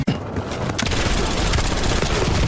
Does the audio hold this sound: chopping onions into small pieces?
no